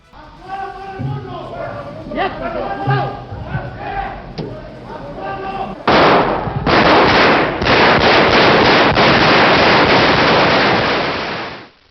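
A loud burst of rapid gunfire erupts inside the Spanish Congress during the 23-F coup attempt, after a few seconds of shouting voices, continuing as dense overlapping shots until the end.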